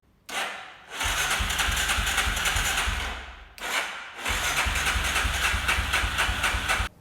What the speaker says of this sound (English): So if the bike turns over like this,